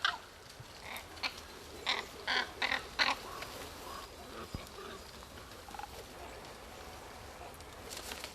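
Ravens call from a park valley with surrounding mountain forest, a series of about six hoarse croaks in quick succession early on, then quieter scattered calls over a hiss of outdoor background.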